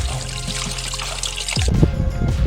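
Water being topped up into a container during a paragliding outing, a short pouring trickle that swells in the second half over a low hum of background noise, with no talk.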